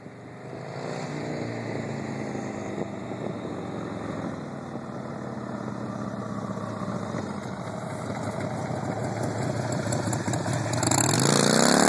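A 1997 Harley-Davidson Sportster with slip-on exhausts runs as it pulls out onto a road, a steady, loud engine rumble that builds and grows louder toward the end.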